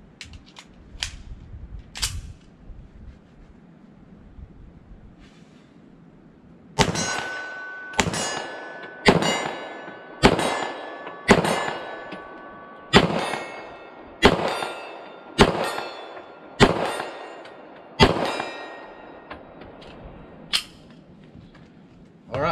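A Walther PDP Pro SD full-size 9mm pistol fires about a dozen shots at a steady pace, each crack followed by the ringing clang of steel targets set at 25 and 40 yards, heard clearly outdoors with little else around.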